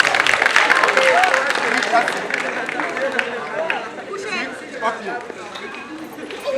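An audience claps after a trained dog demonstration. The applause is loudest at the start and fades to scattered clapping and crowd chatter, with someone talking over it.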